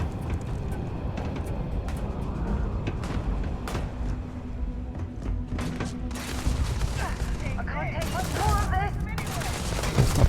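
Rapid gunfire from the space game Starfield sounds in dense, overlapping bursts under continuous game noise and speech. It stays loud throughout and grows busier toward the end.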